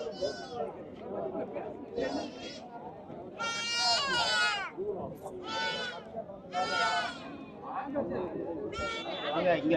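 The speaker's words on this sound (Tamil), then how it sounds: "எல்லாமே இந்த சைடில் எல்லாமே நாட்டு ஆடுகள் தான்" Native goats at a livestock market bleat repeatedly over a steady crowd hubbub, with several calls standing out clearly and people talking throughout.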